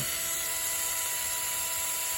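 Power drill driving screws into soft plastic arm inserts for a Traxxas Sledge RC truck, a steady high-pitched motor whine held continuously throughout, with no one speaking.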